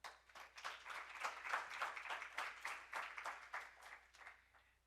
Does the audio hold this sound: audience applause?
yes